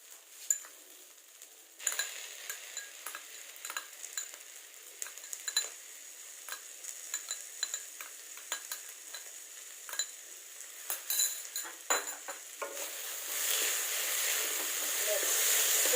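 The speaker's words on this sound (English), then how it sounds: "Now let's add the ginger and the garlic paste." Ginger garlic paste being stirred into golden-brown fried onions in a pan for an Assamese ash gourd dish, steady sizzling with frequent spoon scrapes and taps against the pan, growing louder and hissier toward the end.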